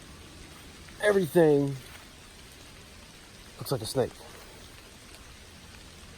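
Rain patters steadily on leaves and ground in the woods on a new hunting property, a soft continuous hiss beneath two short bursts of someone talking nearby.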